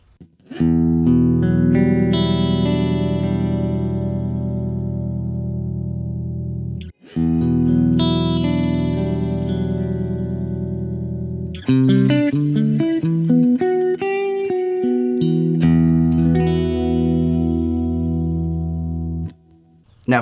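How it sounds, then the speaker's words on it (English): Long, heavily processed guitar chords through a Kemper Profiler effect-type reverb, ringing out with a wide, shimmering reverb, held notes broken by a few quicker picked passages, loud and alone. "Now for an effect type reverb, as in not a natural reverb, that sounds awesome."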